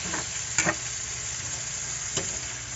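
Food being stirred in a cooking pan, a low continuous sizzle broken by two brief scraping strokes of the utensil.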